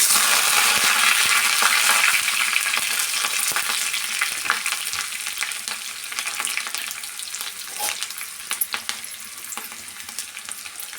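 Curry leaves crackle and sizzle in hot oil, with chopped onions, for a radish sambar; a dense, steady frying hiss with scattered sharp pops runs throughout and gradually eases slightly, with no talking.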